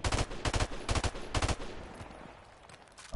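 Video game gunshots in several quick, punchy bursts of automatic fire, loud and close at first, then trailing off into a fading, muffled tail.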